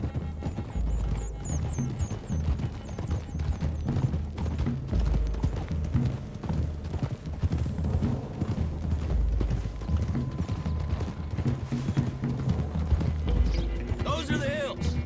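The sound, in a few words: horses trotting in a video game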